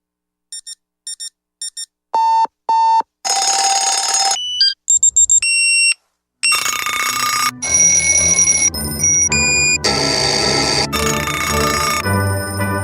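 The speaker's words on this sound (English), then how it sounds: "Make sure your child is up with the alarm and ready for school each morning" An alarm clock rings in a school attendance radio ad, opening with short electronic beeps that lead into loud, sustained ringing bursts repeated several times with brief gaps.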